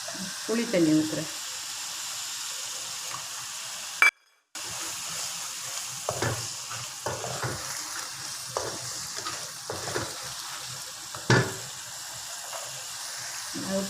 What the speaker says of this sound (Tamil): புளி தண்ணி ஊற்றுறேன்.